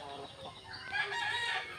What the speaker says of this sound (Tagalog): Ang among manok nga gi prepare.